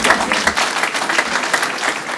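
Applause at a school board meeting, a steady patter of clapping from a room of people, moderately loud and continuous.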